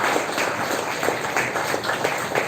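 Audience applause at a school Republic Day celebration, a steady mid-level wash of clapping with faint individual claps popping through, continuous for a couple of seconds with no voices.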